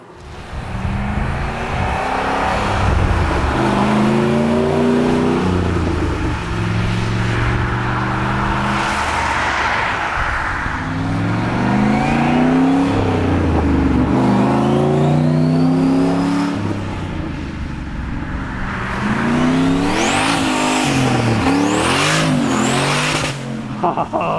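A car engine revs hard and accelerates repeatedly, loud and close, its pitch sweeping up and down through several throttle bursts with a steady exhaust roar.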